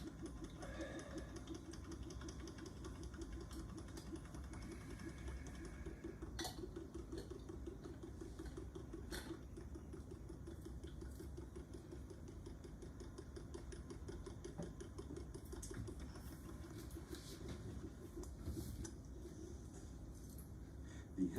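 A vacuum pump runs steadily, evacuating the air from a pair of metal hemispheres, giving a continuous low mechanical hum with a faint rapid pulsing throughout, moderately quiet and alone.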